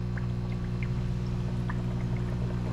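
A VEVOR electromagnetic commercial air pump runs with its valves open, blowing air out as a steady, loud mechanical hum with a low buzzing drone and faint bubbling.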